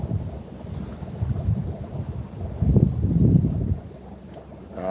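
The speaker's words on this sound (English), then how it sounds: "The wind." Outdoor wind buffets the microphone in a low, rumbling roar, swelling in gusts, loudest near the middle, with no voices.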